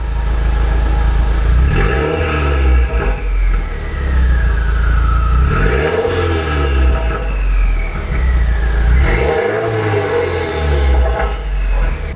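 A 2017 Subaru WRX with a catted downpipe and stock exhaust revs three times from idle, each loud, close throttle blip rising and falling back to a rumbling idle, with no talking.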